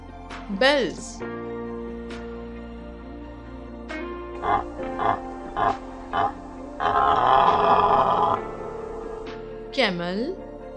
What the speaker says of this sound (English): Deer bells.